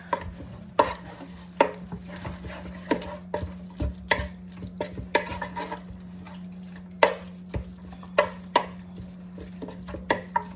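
A spoon stirs spaghetti bolognese sauce seasoned with a big teaspoon of Italian seasoning, giving sharp, irregular clinks and scrapes against the pan over a steady low hum, with no voices.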